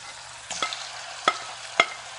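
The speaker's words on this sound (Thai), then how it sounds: "น้ำมันเดือดแล้วนะคะเราก็ใส่เนื้อปลาเลยนะคะ" Fish meat frying in hot corn oil, three sharp utensil taps against the pan spaced apart over a faint low sizzle and hum, with no voices.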